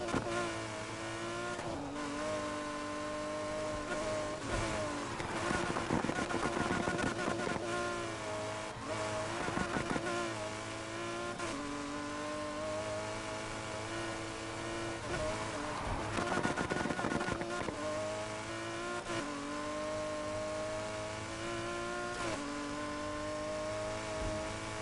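McLaren P1 supercar engines, one a P1 GTR, roar and rev continuously during a race in Need for Speed Heat, with rising and falling engine pitch and shifts under steady game sound, no talking.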